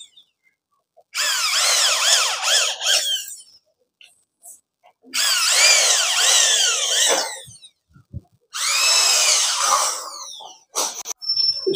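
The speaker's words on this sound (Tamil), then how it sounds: "ட்ரில் பண்ண ஆரம்பிச்சிட்டோம்" A power drill whines in three long bursts while drilling for polycarbonate pergola roofing, its pitch rising and falling as it bites, with short quiet pauses between runs.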